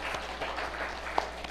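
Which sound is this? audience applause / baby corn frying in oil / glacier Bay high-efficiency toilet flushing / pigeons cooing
audience applause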